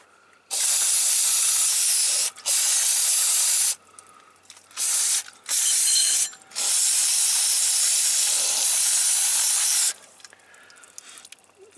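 Brake cleaner aerosol sprayed onto a Kubota Z412 zero-turn mower during a transmission fluid change: loud, close hissing bursts, a couple of short ones and then a long one of several seconds, with quiet pauses between.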